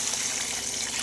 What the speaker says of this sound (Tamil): இப்போது ரசத்துக்கு தேவையான அளவு தண்ணி ஊற்றிக்கலாங்க.